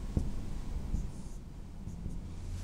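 Chalk or marker writing on a board during a chemistry lesson on complex compounds, a few soft scraping strokes at close range over a low steady room hum, with no talking.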